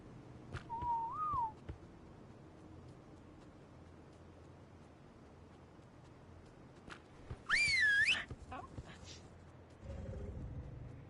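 A character whistling in the video game Ark: a short wavering whistle early on, then a louder, sharper two-tone whistle later, over quiet ambient game background with no speech.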